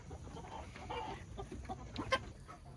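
Soft, scattered clucks and short calls from Mike, a backyard rooster, sound faint and somewhat distant, with a brief louder note near the end.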